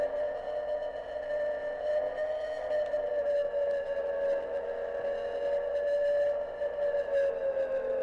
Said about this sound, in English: So, what I need is that TV to be turned off. I can hear it.